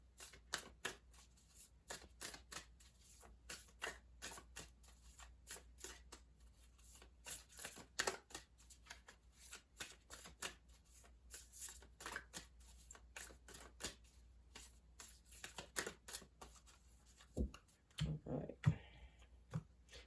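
An oracle card deck is shuffled in a long run of quick, crisp riffling clicks that go on almost without a break, close and fairly quiet, with a few louder rustles near the end.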